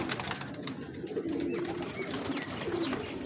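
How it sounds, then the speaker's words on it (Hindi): Soft, low pigeon cooing repeats a few times close by, over a steady background hiss. "ये जी महर असगर वाला कबूतर है, उस्ताद महर असगर साहब वाला।"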